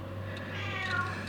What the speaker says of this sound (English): my cat is getting angry for some reason